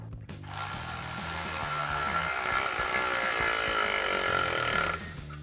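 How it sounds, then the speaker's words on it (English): A power tool with a 13mm socket tightens a clamp on a 2018-2023 Mustang GT XForce Varex axle-back exhaust, one steady loud whirring run lasting about four and a half seconds, close up. "take a 13mm socket and tighten it down"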